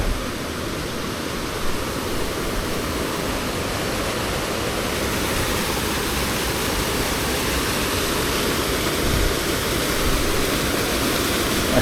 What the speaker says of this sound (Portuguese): Uma pequena queda d'água.